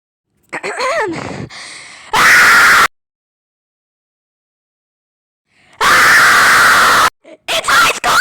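Person screaming loudly away from the microphone in two long, harsh bursts separated by silence, with shorter whimpering and yelping vocal noises before and after.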